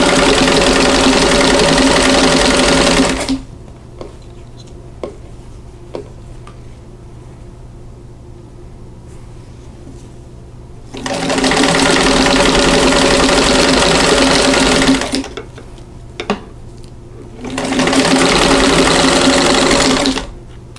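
Sewing machine stitching quilt block pieces in two long runs and one shorter run, steady and close, each burst separated by quiet pauses with faint handling.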